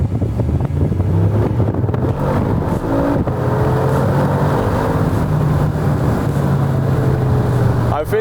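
Mercedes G63 AMG engine in Sport Plus mode, heard from inside with the windows open: a loud, steady low rumble with wind noise, holding a constant drone throughout.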